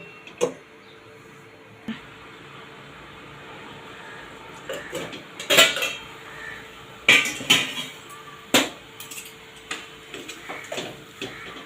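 A lid set down on a pan of semolina halwa in a home kitchen, giving a few scattered metallic clinks and taps, several clustered midway, over a quiet background.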